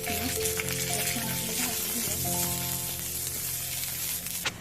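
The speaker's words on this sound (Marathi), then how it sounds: "या कढईमध्ये घेतलेला आपण पावटा जो आहे तो घालून घेऊयात त्याला छान असं तेल टाकून थोडंसं भाजून घेणार आहे" Pavta beans roasting with oil in a kadhai, a dense close sizzle and crackle with occasional rattling stirs, steady and loud throughout.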